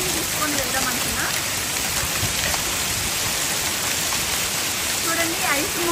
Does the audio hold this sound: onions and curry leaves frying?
no